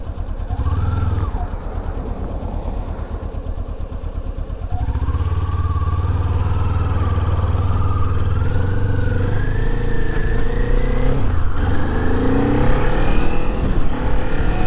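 A small cc motorcycle riding on a road, its engine buzzing loud and close, rising in pitch as it accelerates through the gears with brief shifts in between and steady wind rumble underneath.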